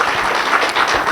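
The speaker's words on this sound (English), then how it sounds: "Let's give him a round of applause" An audience applauds a speaker at a company founder's event: a dense, steady wash of many hands clapping at even loudness throughout the short stretch, with no voices over it.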